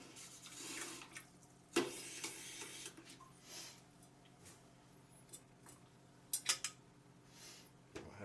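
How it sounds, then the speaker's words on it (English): Soft trickles and splashes of water going into a pot for cooking crawfish, quiet and close, with a few clinks and handling knocks between pours. "Add our water in here."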